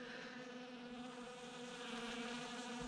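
Honey bees hover around spilled wax residue from wax melting, a steady, dense buzzing drone close by that holds evenly throughout.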